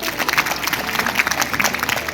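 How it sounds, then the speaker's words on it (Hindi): A kavi sammelan audience at a comedy poetry event claps loudly and densely in a continuous burst of crowd applause, close and busy throughout with no talking over it. "इस पे ताली बजनी चाहिए"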